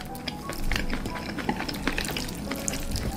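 Jjapagetti noodles with fried eggs being stirred and mixed close up during a mukbang, giving a busy, wet, sticky clatter of noodles and utensil with soft slurpy squelches, continuous for a few seconds without talk.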